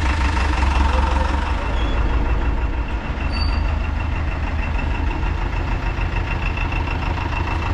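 A restored, modified Ford 3600 tractor's diesel engine chugs loudly and steadily as it drives off, close and continuous with a brief dip, and no talk over it.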